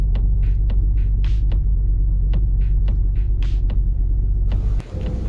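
A car engine running at under ten percent throttle while driving slowly through the gears, a loud steady low rumble and hum, with faint ticking and a brief drop near the end.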